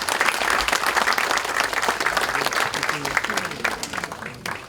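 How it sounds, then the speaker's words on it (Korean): Democratic Party lawmakers at a National Assembly workshop clap together to approve a floor deputy leader's appointment. The applause is sustained and fairly loud, a dense crowd of claps with faint voices mixed in. "의원 여러분께서 박수로 추인해 주실 것을 부탁드립니다."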